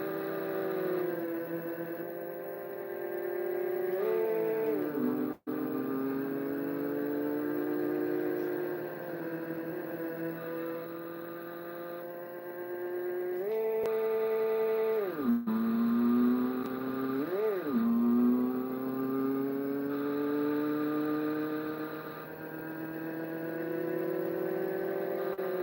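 Arcade driving game car engine roaring steadily for about 25 seconds as the virtual car runs down I-94, pitch sliding up and down with gear shifts and revs, loud and continuous with no talk over it.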